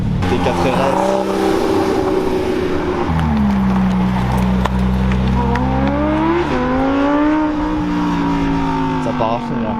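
A Porsche GT4 RS supercar accelerates hard on a mountain road, its engine climbing through rising revs with gear-change dips, loud and near, with people talking and cheering over it.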